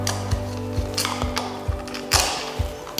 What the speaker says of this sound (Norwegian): Da begynner man å løsne skjefteskruene.